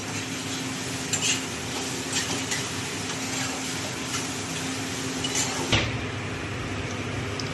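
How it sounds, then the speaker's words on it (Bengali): Young ash gourd pieces fry in a pan with cumin-seed tempering, a steady close sizzle broken by scraping stirs and occasional clinks of the spoon against the metal. "কুমড়োটা একটু ভাজা ভাজা করে নেব"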